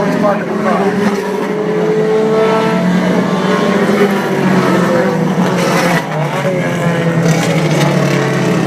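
A race car at a road race reunion rumbles steadily at low speed while being parked, a continuous loud engine drone with crowd noise and talk mixed underneath.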